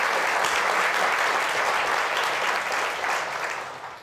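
Sustained audience applause fills a live talk event at the 92nd Street Y, dense and steady throughout before tapering slightly at the end, with no voices over it.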